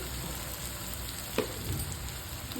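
Vegetables for a veg biryani fry in a pan as coriander powder and garam masala are stirred in on low heat, with a steady soft sizzle, a spoon scraping once, and no talking.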